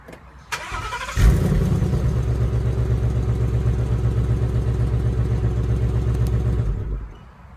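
A 2016 Ford Mustang GT V8 with dual exhaust starts up and settles into a loud, steady rumbling idle close by, with a few throttle blips, before cutting off near the end.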